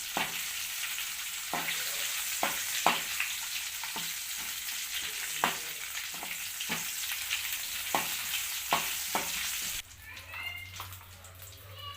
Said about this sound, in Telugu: దాల్చిన చెక్క కొంచెం సాజీరా వేసుకొని ఫ్రై చేసుకోవాలి